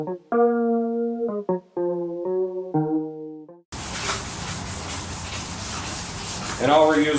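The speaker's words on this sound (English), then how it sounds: "all we're using for wet sanding is just some soapy water" Wet sanding a Suzuki Katana GSX600F motorcycle part with soapy water: after a few seconds of melodic tones, a steady close scrubbing rasp takes over, rubbing back and forth continuously.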